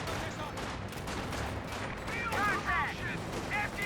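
Gunfire from a Company of Heroes 2 battle hits a garrisoned building, with a dense, continuous crackle of shots and rumbling impacts and a few ricochet-like whines near the end.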